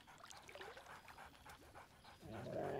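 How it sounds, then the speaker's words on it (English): Scratch, the dog companion in Baldur's Gate 3, gives a run of short, lively barks and panting huffs, close and fairly loud, with no talking. "Scratch barks merrily in something like agreement."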